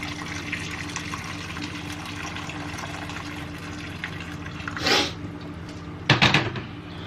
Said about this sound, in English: I boiled this kettle before. I'm going to pour and cover it